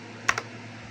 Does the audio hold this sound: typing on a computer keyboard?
yes